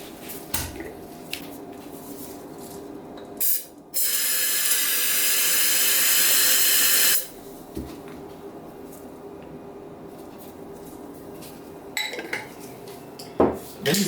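Model paint sprays from a spray can fitted with a fat cap: one loud, steady hiss lasting about three seconds. Softer clicks and handling knocks from the can come before and after it.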